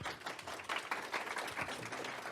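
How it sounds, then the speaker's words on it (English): An audience claps for a presenter at an Intro to Linux education session, a short burst of dense, steady applause from a room of people. "Please clap for him."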